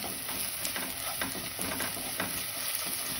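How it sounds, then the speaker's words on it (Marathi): Ginger-garlic paste sizzles with golden-brown onions in a pan for dhaba-style chole, a dense continuous frying hiss broken by soft rhythmic scrapes of a spatula, close and steady. "आता त्यामध्ये मी ही आलं लसणाची पेस्ट आहे ती घालते सगळी आणि पुन्हा 1 मिनिट असं परतवून घेते मस्त त्याला"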